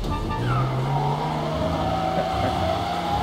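Car engine droning steadily in Mafia Definitive Edition, a sustained loud hum with a rising whine while driving, no talk over it.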